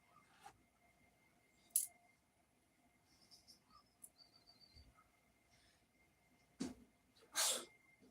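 Two sharp, close sneezes from one person burst out of an otherwise quiet room, the first near the start and a louder pair of bursts near the end, with faint small noises in between.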